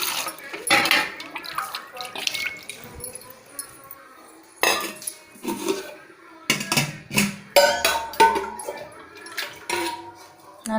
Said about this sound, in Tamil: ஸோ அதனால் நம்ம தண்ணி மாற்றிட்டு வேறு தண்ணியில் வந்து அலசிக்கலாம். பாத்திரத்தை ஒரு கழுவிக்கலாம்.